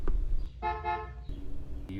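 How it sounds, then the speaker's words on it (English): Horn of a RyderToys 24V AWD two-seat kids' ride-on buggy gives a single steady electronic toot of under a second, fairly quiet and thin, with faint background noise around it and no talking. "And it has its own horn"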